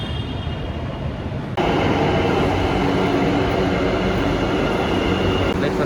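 A metro train on an urban line rumbling loudly nearby, a broad steady roar that jumps in volume partway through and then holds, with faint tonal whine above it.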